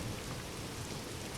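Steady rain falls in Skyrim, a dense even hiss of drops lasting throughout with no pauses and no voices.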